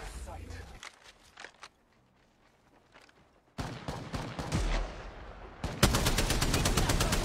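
Charge rifle fire and other gunshots in the Apex Legends video game ring out as loud, sharp bursts and rapid repeated shots after a quieter stretch, with voices talking over the action.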